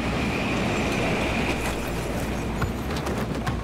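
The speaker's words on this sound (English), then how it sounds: "And of course it's the same train." A train rolls past in the war shooter game Battlefield 3: a steady rumbling roar of wheels on rails with faint metallic squeals, continuous and fairly close, with no speech over it.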